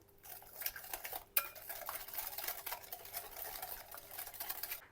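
Eggs stirred in a bowl for chocolate Dobos cake batter, a continuous close scraping and clinking of utensil against the bowl with no voices.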